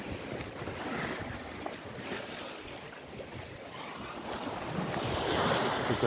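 A sailboat moves across the open sea with a following wind, carrying a continuous wash of waves and water rushing past the hull under heavy wind buffeting on the microphone.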